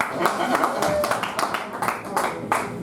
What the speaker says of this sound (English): Round of applause for your host, Jerome